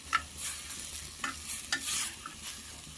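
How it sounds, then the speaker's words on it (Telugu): Pithiki pappu (field bean) masala sizzles in a pan while a spoon scrapes and stirs it, giving soft steady frying with several sharp stirring clicks. "ఈ పిదిపప్పు వేసిన తర్వాత ఒక ఫైవ్ మినిట్స్ మనము ఫ్రై చేసుకోవాలి పచ్చి వాసన వెళ్ళేంత వరకు ఫ్రై చేసుకోవాలి"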